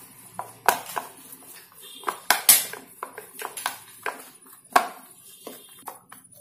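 A pistachio-green sweet mixture for Diwali treats, tinted with a few drops of colour, is stirred in a bowl, giving irregular close clinks and scrapes of a utensil against the dish.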